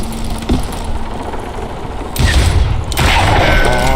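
Gunfire in the video game Call of Juarez: Gunslinger, with loud rapid bursts of shots and booming impacts that grow denser and louder toward the end.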